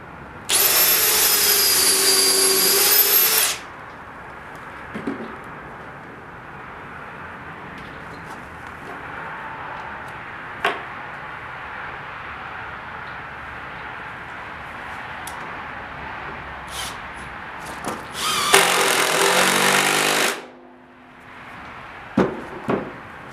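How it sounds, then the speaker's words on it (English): Power drill boring two holes while building a pull-behind camper, two loud sustained whining bursts, one at the start and one near the end, separated by a long quiet stretch with faint taps. "Okay, drill these 2 holes now."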